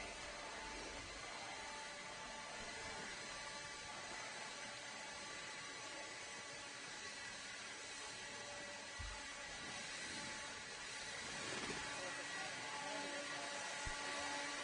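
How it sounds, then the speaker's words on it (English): Blowers clear dirt off an RC race track at a desert raceway, a faint, steady motorized whine and whoosh heard from a distance throughout. "going to grab those blowers. Start blowing off the track."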